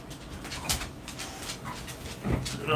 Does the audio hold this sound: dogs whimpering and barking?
yes